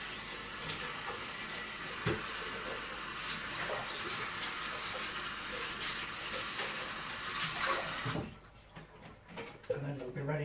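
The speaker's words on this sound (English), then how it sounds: "I'll quickly rinse this." Running water from a tap rinses a jug in a kitchen, a steady hiss and splash that carries on for about eight seconds before the flow stops, leaving faint clatter.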